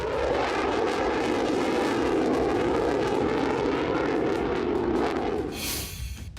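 Israeli fighter jet roaring overhead in the sky, a loud, sustained broadband engine roar that holds steady for several seconds before easing off at the end.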